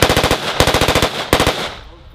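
Close, loud bursts of rapid automatic gunfire on a shooting range, three quick strings of shots with short pauses between them, the last burst fading into silence.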